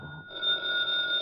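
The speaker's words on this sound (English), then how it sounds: "the phone's ringing" A telephone rings in an old radio drama, a steady electronic bell tone sounding continuously and fairly loud with no talk over it.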